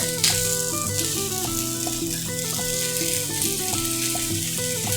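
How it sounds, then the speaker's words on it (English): Continuous sizzling of drained, rinsed canned black beans frying in a hot pan, with soft stirring scrapes and steady background hiss, no voices. "You hear the sizzle?"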